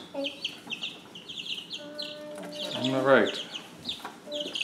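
Young chickens in a brooder clucking and peeping, with a busy run of close, overlapping chirps and clucks and one louder drawn-out squawk partway through, while a person speaks briefly.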